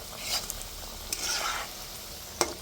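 Coriander vadis made with poha and sesame shallow-fry in hot oil with a bright, hissing sizzle. A few sharp stirring or turning clicks break through the steady crackle, close up and without talk.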